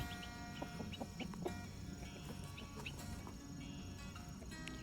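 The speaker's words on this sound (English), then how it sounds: "Hear that little bird?" Faint high chirps from a small bird ring out in a garden amid chickens clucking nearby, short calls repeating over a quiet background.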